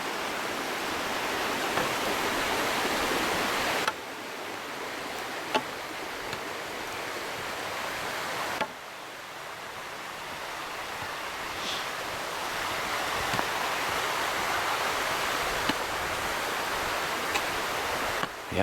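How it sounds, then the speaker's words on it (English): A creek flows in the woods, a steady broadband rush of water that holds constant through the clip with slight shifts in level, close and continuous, with no talk. "creek flowing down here"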